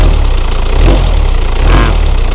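A 2.5-litre diesel pickup engine runs during an injection pump test, a loud, close, steady low rumble with a rough idling throb and no talk.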